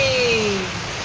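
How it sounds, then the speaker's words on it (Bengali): Heavy rain pours down close by as a steady, dense broadband hiss that fades slightly toward the end, with a faint falling tone running underneath. "জমজমিয়ে বৃষ্টি পড়তেছে, কনকনিয়ে বৃষ্টি পড়তেছে"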